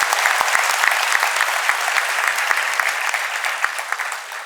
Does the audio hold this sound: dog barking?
no